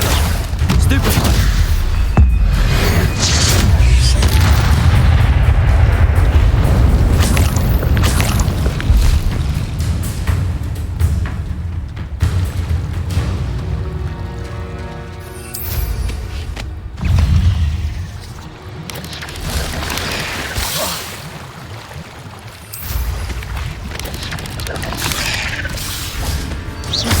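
Spell blasts from a Harry Potter video game: a dense, continuous barrage of booms, crashes and crackling impacts, loud and layered with game effects and a voice casting, fluctuating slightly in intensity throughout.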